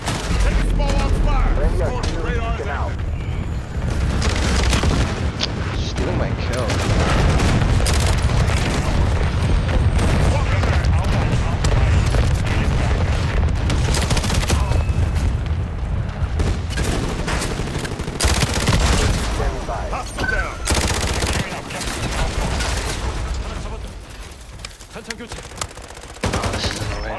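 Small arms gunfire in the video game Modern Warfare: loud, dense, nearly continuous bursts and booms filling the whole stretch, with radio-style voice callouts mixed in.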